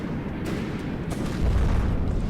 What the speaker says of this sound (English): Missiles are still firing.